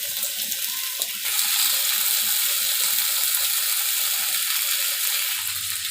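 Thin-cut potato pieces hit a hot oiled pan, with a steady bright sizzle starting sharply and holding at a constant, close hiss throughout.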